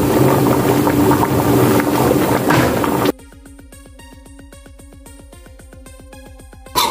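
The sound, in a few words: bone marrow salan curry cooking on high flame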